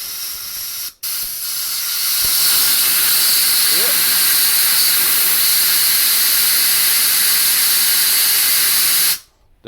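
Loud, steady hiss of white water mist spraying from a carburettor jet during testing, blasting continuously for several seconds, cutting in abruptly and stopping at the end; a voice speaks briefly.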